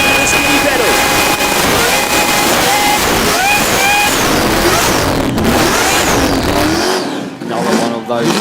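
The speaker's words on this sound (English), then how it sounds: "Another one of those supercharger lines you love to hear." A supercharged car does a burnout at an Australian burnout event in Red Centre, its engine screaming at high revs with a whining supercharger over roaring tyre noise, loud and sustained before easing slightly near the end.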